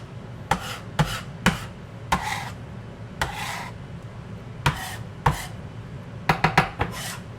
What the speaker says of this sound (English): Scrape your knife.